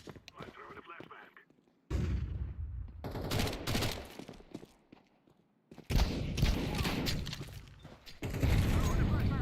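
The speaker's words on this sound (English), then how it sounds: "I throw in the flashbang." Loud bursts of gunfire and bangs from a flashbang grenade thrown in a video-game shootout, arriving in several heavy, crackling waves separated by brief lulls, with a voice speaking between them.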